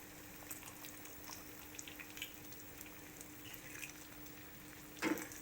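Eggs fry in a pan for masala egg fry, giving a quiet, steady sizzle with faint crackles, plus a short clatter near the end.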